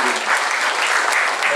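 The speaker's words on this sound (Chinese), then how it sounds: "再次给他鼓掌一下" An audience at a seated talk or panel claps continuously, a dense and fairly loud wash of applause that holds steady for the whole moment.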